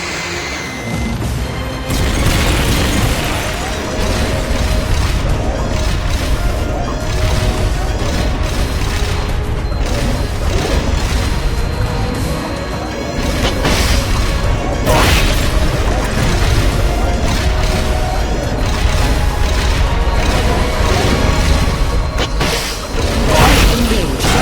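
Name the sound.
rocket launcher firing and explosions in Metal Gear video game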